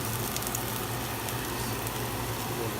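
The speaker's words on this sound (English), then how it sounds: "the bitter melon, we add the bitter melon all of them." Sliced bitter melon (ampalaya) frying in a pan with garlic, a continuous even sizzle and crackle at moderate level with no voices.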